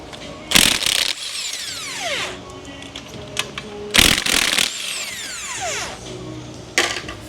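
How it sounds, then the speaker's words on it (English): Ratcheting wrench with 12-point wobble sockets backing out turbo manifold bolts on a Duramax LBZ 6.6 diesel, two loud bursts of rapid clicking ratchet strokes separated by quieter tool handling, close up. "we've got some 12-point wobble sockets here. These are gonna go on the manifold bolts. Pull these guys right on out."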